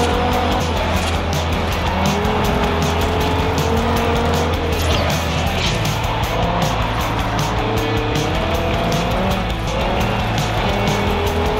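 Loud, continuous race car engines roar in a Forza Horizon gold wristband race, with repeated tire squeals and skids as cars jostle and pass close by.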